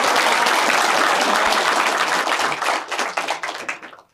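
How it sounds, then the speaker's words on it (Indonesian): An audience at a youth forum applauds, a dense, loud wash of many hands clapping that thins into scattered claps and fades out. "Boleh dong kasih tepuk tangan"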